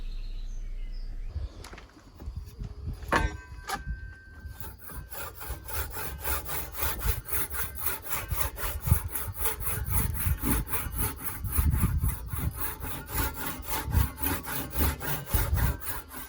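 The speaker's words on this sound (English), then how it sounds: "now I'm just working down my line nice and straight and into the timber as well, using a Japanese style saw" A Japanese-style saw cuts into timber with fast, rhythmic rasping strokes, close and continuous, after a few brief knocks and scrapes at the start, with faint birds outdoors.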